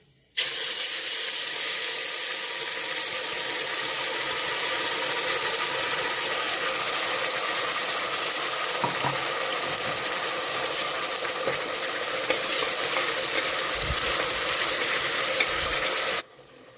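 Ground masala sizzles in hot oil with cumin in a pressure cooker, a loud, steady frying hiss that starts abruptly and runs unbroken with faint stirring scrapes, then cuts off near the end.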